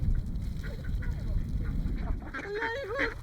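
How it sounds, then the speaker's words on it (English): Roughly a hundred ducks crowd in to be fed at a busy lakeside motorhome stop in Italy, their quacks and calls rising into a loud, chaotic chorus over a constant broadband bustle, growing denser and nearer toward the end. "About 100 ducks are headed in this direction."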